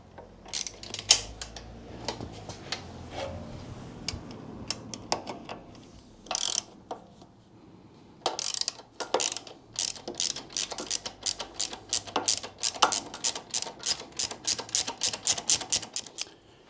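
A hand ratchet works the 12mm seat bracket bolts on a Royal Enfield Classic 350 Reborn motorcycle: a long run of fast, close, crisp clicks, faltering early, then settling into a steady rapid rhythm.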